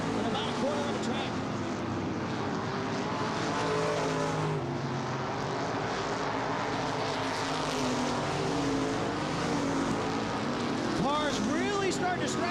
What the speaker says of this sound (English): Cars really starting to stretch out now as they're going around.